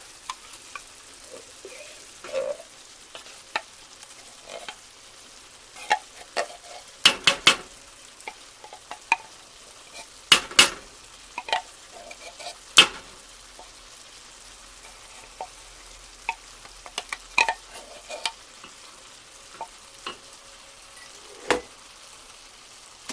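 A spoon scrapes and stirs canned cheddar cheese soup into browned meat in a pot, with soft wet clicks and clanks at irregular intervals, close up and without speech.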